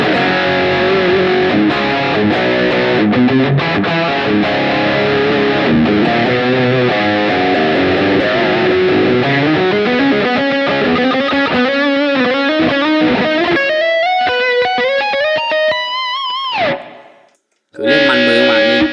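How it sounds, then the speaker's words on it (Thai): A heavily distorted Schecter Damien Platinum 6 FR-S electric guitar plays continuous riffs and sustained chords, loud and saturated, cutting out briefly near the end before resuming. "ยิงเสียงแตกได้ไม่ต้องห่วงเลยนะสบายสบายมือเลย"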